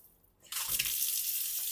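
A kitchen water dispenser tap is turned on and runs in a steady, close, broadband hiss of flowing water after a brief quiet start, with no talking over it.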